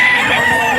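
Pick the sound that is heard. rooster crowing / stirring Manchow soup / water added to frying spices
rooster crowing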